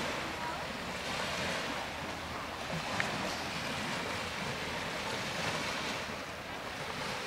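Steady wash of waves along the driftwood-strewn beach of Harrison Lake, a continuous moderate roar mixed with wind buffeting the microphone, with no voices.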